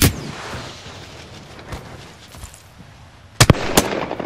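Bursts of gunfire in a battle royale shooter game: scattered shots through a noisy stretch, then a loud cluster of sharp close cracks near the end, with no talking.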